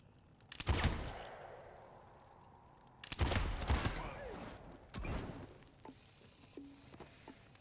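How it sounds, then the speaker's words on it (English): In a gunslinging tactical video game, a gunshot hits TNT, bringing several loud explosive bursts with crackling tails, separated by quieter pauses, followed by faint mechanical clicks. "and I'm going to shoot this TNT."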